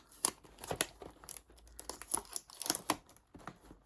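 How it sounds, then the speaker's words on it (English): Tape is pulled from a roll and torn off while crepe paper rosettes are made, giving several quick crinkly rips and crackles in short bursts, close and fairly quiet, with no talking. "I'm going to put tape on it as well"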